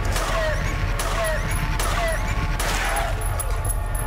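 Repeated gunfire in Silent Hill 3 on the PS2, aimed at dog creatures in a lower area. Sharp shots come several times in a rhythmic series over a dense game background.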